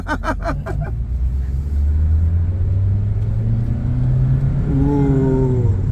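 A Toyota Rush with a double Blackcore fitted idles with a deep, loud rumble, then its engine is revved and held at a higher pitch, with a brief voice near the start.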